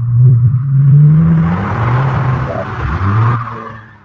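An AI-generated car sound plays loudly and up close: the engine revs and accelerates, then eases off as if braking, then accelerates again.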